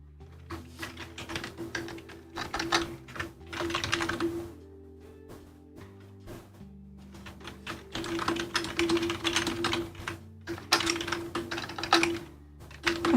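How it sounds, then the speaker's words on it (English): Rapid clattering of computer keyboard keys comes in several uneven bursts with short pauses between, close and fairly loud, over a low steady background hum. "I'm just really bad at typing right now."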